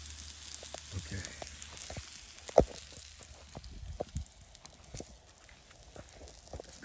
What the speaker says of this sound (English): Hey, I got my eggs on